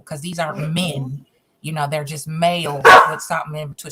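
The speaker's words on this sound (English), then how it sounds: "Excuse me, that's my dog." A dog barks indoors with a short sharp burst under a woman's ongoing speech. The yelps are brief and close, mixed with her talking.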